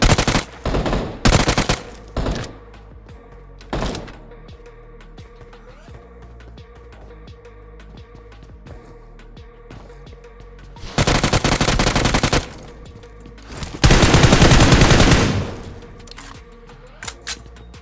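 Bursts of automatic gunfire from BGMI (PUBG Mobile) during a Sacred Quartet event match, loud rapid volleys at the start, around eleven to thirteen seconds and fourteen to fifteen seconds, with scattered single shots and quieter game ambience between.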